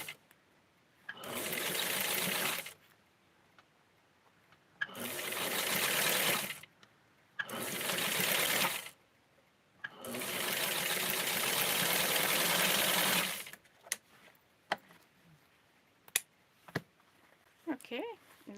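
A sewing machine stitching lace ruffles onto a Barbie doll dress runs in four loud bursts, the longest about four seconds, with quiet pauses between them and soft clicks and handling noises afterward.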